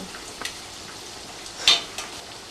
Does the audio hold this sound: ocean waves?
no